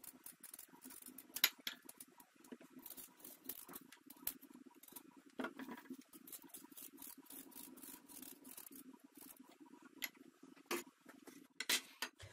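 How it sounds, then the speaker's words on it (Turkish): Knife peeling thick skin from celery root, giving a steady run of scraping, rasping strokes with sharp clicks and cuts, close by and with no talk. "Biraz derin soyuyorum."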